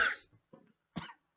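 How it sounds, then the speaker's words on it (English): A few close, rough coughs from a man, one strong hack followed by two smaller throaty bursts with brief silences between, no other sound around them. "man, coughing is the worst."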